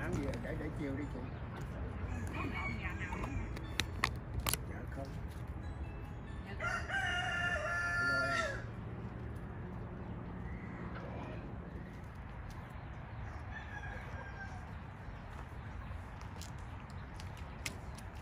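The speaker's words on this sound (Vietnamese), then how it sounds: "Đây anh nuôi rất là nhiều gà luôn nè" Rooster crowing on a Vietnamese-American backyard chicken farm, with one bright crow standing out midway over steady farmyard noise and people talking nearby.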